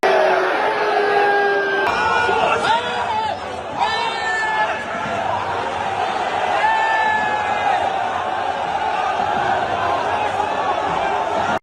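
A large crowd of Chinese football fans in a stadium keeps up a loud, continuous roar of jeering and shouting, with voices rising above the mass of noise throughout.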